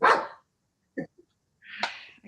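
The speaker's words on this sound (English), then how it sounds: "I gotta let the dog out." A dog barks in short separated bursts, a sharp bark near the start, a brief yip mid-clip and another louder bark toward the end, close by in an otherwise quiet indoor setting.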